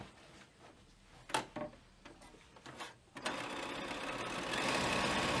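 A sewing machine runs along a frame bag body seam after a few handling clicks and knocks, its steady whir starting partway through and continuing loud and close to the end.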